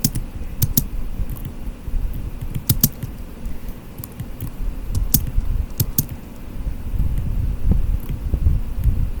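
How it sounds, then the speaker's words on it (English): Computer keyboard typing during quiet gameplay of Avoid the Lions 7: Blue Edition, with sharp irregular key clicks over a low steady hum, fairly close and moderately loud, with no voices. "Other than the occasional laser and the keyboard."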